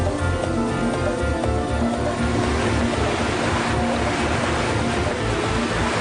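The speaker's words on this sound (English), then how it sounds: "Hull models are tested in water. The wave maker simulates conditions predicted by the weather model." A wave maker churns water in a hull-model testing tank, giving a continuous, loud wash of surging, sloshing water with a low rumbling undertone throughout.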